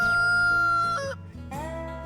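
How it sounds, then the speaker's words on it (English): A rooster crows loudly and close by in a rainforest valley, a single drawn-out call that breaks and rises again near the end. "and the roosters start to crow."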